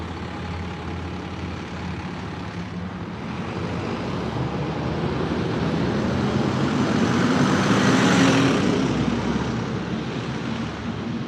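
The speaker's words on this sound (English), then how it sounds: "some car went past that fast behind me" Vehicle passing fast on a street in Yorkshire, a broad roar that builds steadily toward a peak near the end and then eases slightly, loud and close with no talk.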